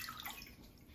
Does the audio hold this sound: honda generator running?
no